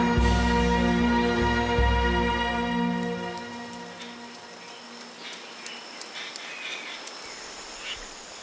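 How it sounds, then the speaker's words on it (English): Heavy lashing rain pours down in a storm over a king cobra's nest, a dense steady hiss that rises as a sustained tonal swell fades away. "The lashing rain will test the king cobra's nest."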